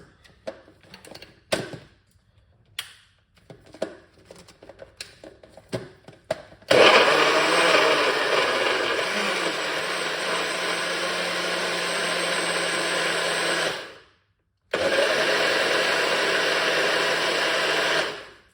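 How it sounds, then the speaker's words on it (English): A few clicks and clatters, then a loud, steady whirring blender runs beetroot juice for several seconds, stops briefly, and starts again with the same high motor roar. "So if you have a good blender, don't blend it too long."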